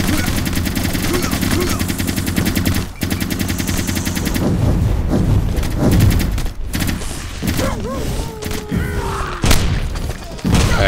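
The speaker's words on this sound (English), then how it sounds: "I'm always running out of ammo, because I'm running around shooting non-stop" Rapid, loud bursts of automatic gunfire and booming shots fill a shooter video game, nearly continuous with brief gaps, while a voice talks over the action.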